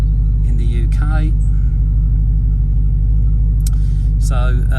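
A UK-registered 707hp Dodge Challenger SRT Hellcat with an 8-speed gearbox rumbles loud and steady while driving, a constant deep drone under intermittent talking from inside the cabin.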